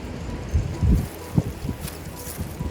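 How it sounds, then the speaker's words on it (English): Wind gusts across an outdoor yard in March, low rumbling buffets hitting the microphone in uneven bursts. "Listen to that wind."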